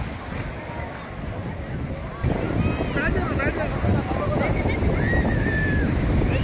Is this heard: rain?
no